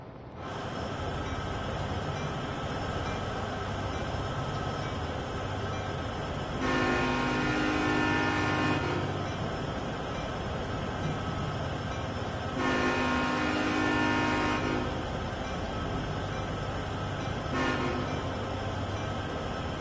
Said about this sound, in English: Start sounding off this horn for the crossing.